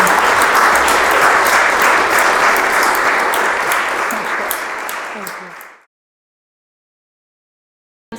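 A crowd at a maritime industry panel applauds: sustained, dense clapping from many hands that holds steady, then thins and fades out to silence, followed by a brief click at the very end.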